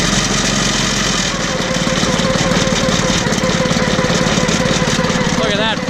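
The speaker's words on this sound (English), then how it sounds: "So we're gonna get this thing started up anyways, give it a try." A Pro Screen topsoil screener's engine fires on the first pull and settles into a loud, steady mid-pitched running drone throughout, close by, with a rapid throbbing pulse.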